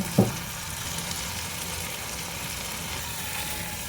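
Onions fry in a pan with ground spices such as black pepper and red chilli powder, giving a steady close sizzle after a brief clank of a utensil at the start.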